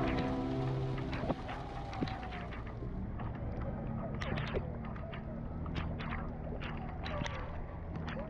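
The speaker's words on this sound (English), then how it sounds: "It started to rain again" Rain falling on Luli Island, a steady broadband hiss of drops on water and sand, close and continuous, with scattered sharper splashes and gusts of wind buffeting the microphone.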